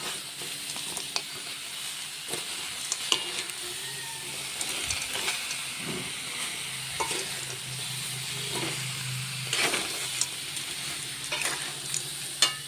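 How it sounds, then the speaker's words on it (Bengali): Raw mango pieces being stirred through melting sugar in a pan for a sweet chutney, a steady soft sizzle and hiss with scraping strokes of the spoon recurring every second or two, close by and with no talk. "এদিকে দেখুন আমগুলো দিয়ে দিয়েছি চিনির ভেতরে, একটু মিশিয়ে নেব যাতে চিনিটা গলে"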